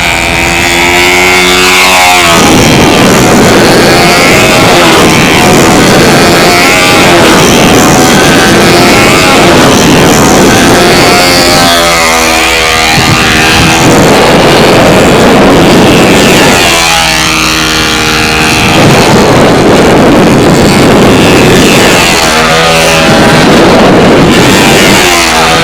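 A model airplane engine in flight at a windy 2005 national model aircraft contest open practice, a loud, continuous high-pitched buzz that swells and fades in pitch as the plane passes repeatedly overhead.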